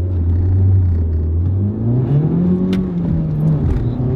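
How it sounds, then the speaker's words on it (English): A car engine pulls away hard, its low rumble rising steadily in pitch as it accelerates and revs close by, with no talking. "So let's see how it accelerates."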